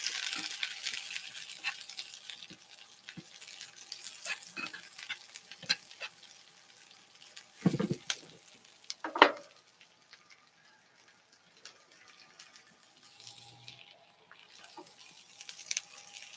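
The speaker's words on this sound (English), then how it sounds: "So we're just going to fry and bring this to a level of translucency" Onions and peppers fry quietly in a pan for spaghetti Napolitan, a low steady sizzle broken by stirring scrapes and a couple of louder clatters near the middle, with no talking.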